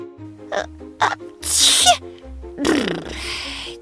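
Kittens sneeze in a fairy-tale audiobook sound effect: a few short, sharp bursts, one longer breathy sneeze in the middle and another near the end, over a soft, steady low musical tone.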